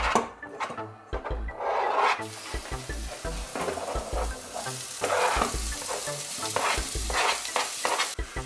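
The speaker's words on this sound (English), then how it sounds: "So I'm going to leave the onions and peppers to saute for a bit before I add anything else." Chopped onions and peppers sautéing in a pan for a pasta sauce, a steady soft sizzle broken by scraping and stirring knocks from a utensil.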